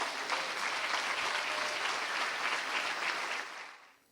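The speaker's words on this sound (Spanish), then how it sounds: "Puede aplaudirle al Rey." A church congregation claps in a full, even wave of applause that holds steady for several seconds and then fades quickly to quiet.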